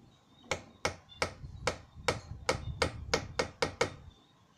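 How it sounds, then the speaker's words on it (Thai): About eleven sharp hammer strikes tap against something to crack it open, close and distinct, starting slow and speeding into a quicker rhythm of knocks with no talk. "จะตอกให้เขาแตกเลยนะคะ เดี๋ยวเรามาตอกเลย"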